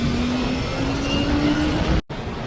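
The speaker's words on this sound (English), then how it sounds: "Let's take this CBR 250 out on a test ride" A Honda CBR 250 motorcycle rides along the road on a test run, its engine a steady, continuous drone close by with a faint rising tone, briefly cut off near the end before resuming.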